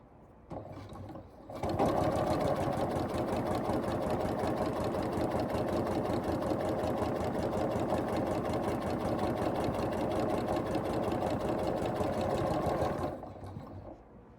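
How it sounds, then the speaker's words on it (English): A sewing machine stitching quilt panel blocks along a diagonal line runs in one steady, fast, rhythmic whir for about eleven seconds, starting and stopping cleanly, with no talking over it. "we're going to sew on the diagonal line"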